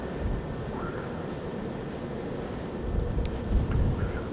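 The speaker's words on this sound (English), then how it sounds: "Whoo, there goes the wind." Wind gusting across an open fishing spot, a steady broad rumble that swells stronger near the end with no voices.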